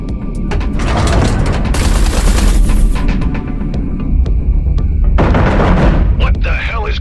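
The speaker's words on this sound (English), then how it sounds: "Eduardo, concentrate artillery fire on Blakemore's carrier." Heavy artillery barrage pounding a base in the space combat game Everspace 2, a dense stream of booming blasts and rumbling impacts that stays loud and continuous throughout, with a short burst of radio chatter near the end.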